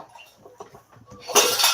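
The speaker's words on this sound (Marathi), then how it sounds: "ऐकलंस का भांड्यांचा आवाज" Dishes and metal utensils clatter in a short, loud burst near the end, after a stretch of faint household background sounds.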